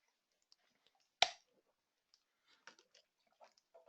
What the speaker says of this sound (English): just having a quick drink